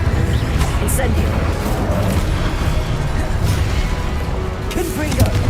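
An Incendio fire spell is cast in the Hogwarts Legacy video game, with dense, loud whooshing and booming combat effects rolling continuously alongside brief bright crackles and impacts.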